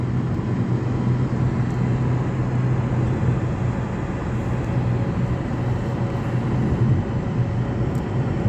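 Traffic on a Kuwait highway gives a constant, loud, broadband road roar with a low hum, no distinct individual vehicles standing out.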